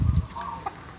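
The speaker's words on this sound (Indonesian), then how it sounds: "masih bersifat menenangkan, seperti suara ayam" A rooster calls with a short, loud burst of clucking low in the mix, followed by fainter bird chirps that fade into quiet.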